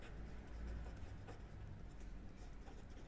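A pen or marker writes out a probability formula during a queueing theory lesson, giving a faint, steady scratching under a low background hiss, with no talk.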